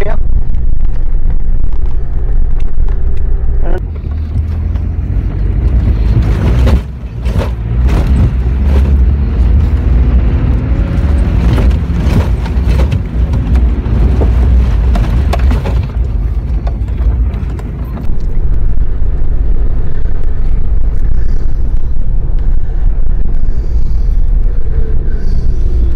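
A 1992 Land Rover Discovery 200tdi on an off-road track, its engine a loud, steady low rumble with bumps and knocks from the rough ground running throughout.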